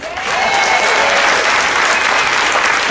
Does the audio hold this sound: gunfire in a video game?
no